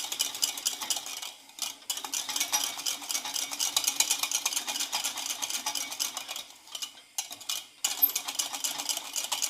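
A whisk or spoon stirs thickening crème pâtissière in a cooking pan, a steady bright scraping swish repeating quickly and close, with a few short pauses and no talking.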